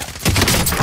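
A short burst of rapid gunfire in a shooting video game, a quick rattle of overlapping shots that starts abruptly and stays loud to the end.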